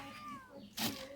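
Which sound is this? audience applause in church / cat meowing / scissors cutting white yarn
cat meowing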